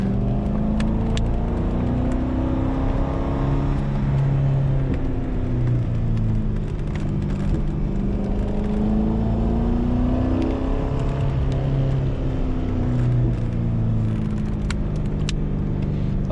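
A 2004 Corvette C5 with a six-speed manual drives a winding mountain road, its engine droning steadily and rising and falling in pitch through gear changes, loud and continuous from inside the car.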